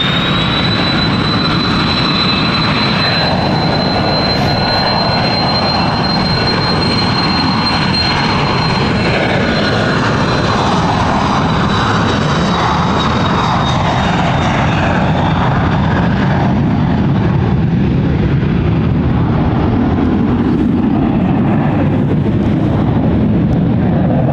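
Jet airliner taking off at London City Airport, a loud sustained engine roar with a high whine that builds steadily and fades slightly toward the end, heard alone with no talk.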